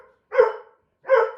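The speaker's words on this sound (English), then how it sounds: "sorry about my dog barking in the background." Two short, clear barks from a dog at home, sounding close and fairly loud, separated by a brief silence, with no talking.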